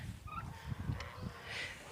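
Low gobbling and clucking calls from turkeys mingle with a few duck quacks outdoors in a village yard, with soft chatter at moderate distance.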